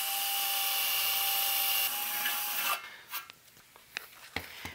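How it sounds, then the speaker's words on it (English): A drill whines steadily at high speed for a few seconds boring a pilot hole for an input jack in a 1930s Globe tube amplifier, then stops, followed by scattered scraping and clicking sounds nearby. "drill that hole."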